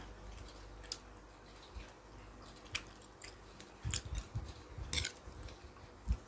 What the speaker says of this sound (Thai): เวลากินไปแล้วนะคะเคี้ยวไปเนี่ย มันจะ ยุ่ยเลยนะคะ หมักหมูเอาไว้เนี่ย